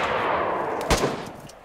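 A single sharp gunshot in the video game DayZ cracks out over constant game noise, loud and abrupt, with no voices.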